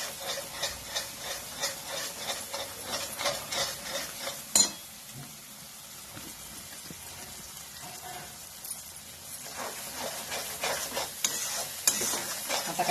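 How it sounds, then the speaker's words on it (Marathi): A bottle gourd masala mixture is stirred and fried in a pan over a high flame, with rhythmic scraping spatula strokes over a soft sizzle, a short pause partway through, then the stirring resumes. "गॅस मोठा करायचा, म्हणजे लवकर भाजलं जातं. फक्त एकसारखं हलवत राहायचं"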